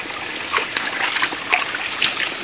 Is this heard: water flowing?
yes